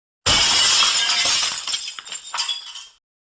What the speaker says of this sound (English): All of a sudden, there was the loud shattering of glass.